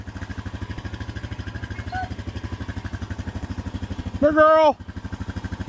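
An ATV engine idles nearby with a steady, evenly pulsing rumble throughout, while a voice briefly calls out over it.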